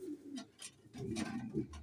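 Pigeons in a loft give soft, low cooing calls in several short bursts, close by and fairly quiet.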